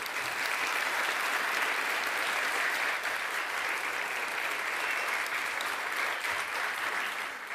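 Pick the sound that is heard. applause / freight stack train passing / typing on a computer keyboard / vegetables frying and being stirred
applause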